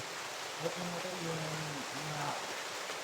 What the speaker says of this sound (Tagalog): Dax, lumakas ang ulan, Dax.